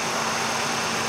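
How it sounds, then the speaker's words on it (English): A 1993 Ford Taurus GL wagon's 3-liter V6 idles in a steady, even hum, a brief continuous drone with no talk. "The 3-liter V6. It's in mid condition."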